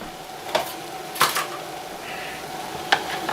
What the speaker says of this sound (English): So I'm gonna grab me a bowl